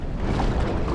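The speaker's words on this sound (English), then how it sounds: "Holy shit, that wind." Strong wind buffets the microphone out on open water near the Gold Coast, a steady roaring rush with constant low rumble and no gaps, loud and close throughout.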